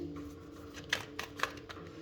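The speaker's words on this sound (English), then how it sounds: "let us start off with one more shuffle" Tarot cards being shuffled by hand, a brief run of soft papery riffles with a few crisp snaps standing out, close and alone.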